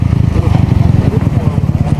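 Motorcycle with an exempted aftermarket exhaust pipe idling nearby during a roadside stop; a loud, rapid, throbbing low putter with a steady pulsing rhythm, no clear speech over it.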